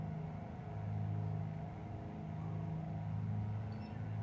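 Twin engines of a Piper PA-44 Seminole in a flight simulator game, a steady low droning hum with harmonic tones, held evenly at moderate level throughout without talk.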